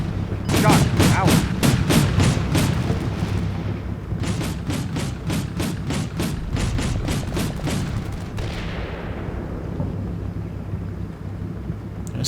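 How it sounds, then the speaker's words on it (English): Rapid machine-gun bursts from the Combat Mission Black Sea war game, loud and repeated in quick rhythmic strings, with heavy rumbling blasts and battle noise underneath throughout. "That sounds machine guns."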